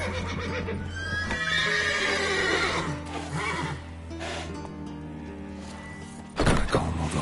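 Horses neigh and whinny in the Witcher 3 video game, with a long whinny near the start, shifting hooves and stable noises, and a heavy thump near the end, all fairly loud and close.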